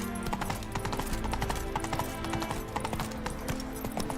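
Roach, a horse in the video game Witcher 3, clip-clops steadily with even hoof beats close up, continuous throughout, with no talk.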